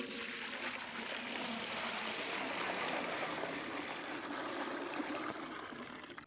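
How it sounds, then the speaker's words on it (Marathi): Water pours steadily into a cooking pot for a chicken matka biryani, a continuous splashing, trickling rush that stays close and even throughout before cutting off at the end. "आपण आता पातेल्यामध्ये पाणी टाकून घेऊ।"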